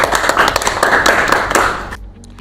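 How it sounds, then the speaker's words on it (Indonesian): Classmates clap for a student in a classroom, a short burst of close, uneven clapping that fades out after about two seconds. "tepuk tangan dulu untuk Eni"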